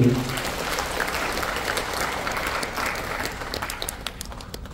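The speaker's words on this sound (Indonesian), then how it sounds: "Tepuk tangan untuk Pak Menteri." An audience at a public works ministry regional consultation opening applauds a minister, a dense, sustained clatter of many hands clapping in a large hall that tapers slightly toward the end.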